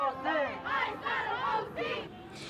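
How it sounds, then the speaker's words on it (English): A crowd of protesters against immigration enforcement in Orange County, facing Santa Ana police, shouts a chant in loud, rhythmic bursts of many voices, repeating in steady waves. "You hear people shouting, "ICE out of OC.""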